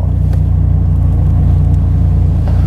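A Dodge Viper GTS engine sits at idle before a launch-control start, giving a loud, steady, deep low rumble with no revving burst, heard close up and alone.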